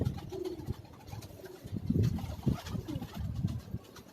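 Pigeon cooing from a rooftop loft in Karachi, low soft coos repeating through the clip at moderate distance, with a faint murmur of background noise.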